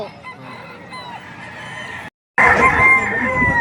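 A rooster crows loudly and close by at a poultry market in Padre Garcia, Batangas, with a brief silent gap before another burst of crowing and clucking amid farmyard noise.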